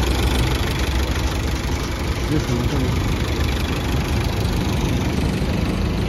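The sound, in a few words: car engine idling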